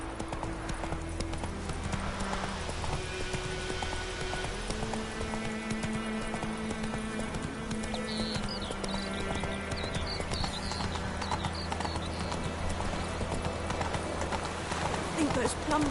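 Roach the horse's hooves clip-clop steadily in The Witcher 3 game, a continuous trotting rhythm beneath music and ambient game sound, with voices speaking at times.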